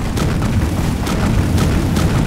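Loud, dense rumbling booms roll continuously, layered explosion blasts in a PlayerUnknown's Battlegrounds game soundscape with no voices.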